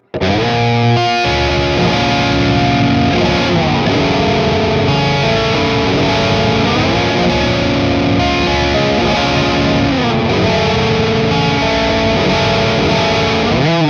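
An electric guitar plays through a preamp pedal in distortion mode, heavy distortion with thick sustained chords and shifting bends, loud and continuous from start to finish.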